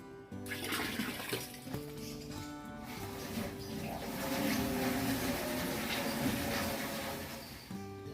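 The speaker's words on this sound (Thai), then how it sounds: "ตอนนี้ก็จะเติมหัวเชื้อลงไปอีกสักหนึ่งกะละมัง อืมเทลงไป" A basin of liquid compost starter is poured into a compost bin of food scraps, giving a rushing, gurgling stream of liquid that swells and then tapers off near the end.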